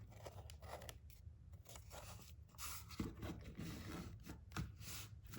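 Material being torn off the spine of a vintage book, giving a run of dry, close scraping and ripping rasps that come in uneven strokes with short pauses between them.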